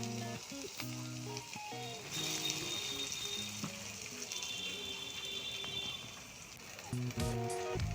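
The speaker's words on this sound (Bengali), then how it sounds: "পেস্টটা দিয়ে এখানে ভালো করে মশলাটা আমি কষিয়ে নিচ্ছি" A ground paste and spice masala for shahi paneer sizzles and fries steadily in hot oil, a close, continuous crackle with occasional stirring scrapes and no talking.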